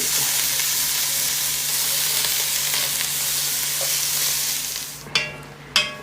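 About a pound of ground meat frying in a cast iron pan for chili mac and cheese, a loud dense sizzle that fades near the end as two sharp clanks of a utensil ring out.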